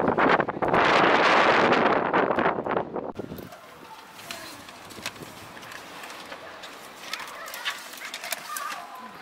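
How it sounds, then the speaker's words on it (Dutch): Loud, blustery wind buffets the microphone for a few seconds, then drops to a quieter outdoor background with faint bird sounds. "Het waait een beetje."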